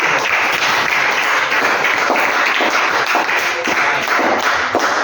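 Loud, dense audience applause in a room, many hands clapping together in a steady, continuous roar that holds its level for the whole stretch.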